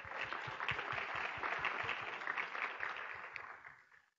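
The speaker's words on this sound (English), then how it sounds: "Let's give a round of applause for the volunteers." At a 2016 conference on California elections, an audience gives a round of applause for the volunteers. The clapping is faint and distant, heard as a steady patter of hands that fades out at the end.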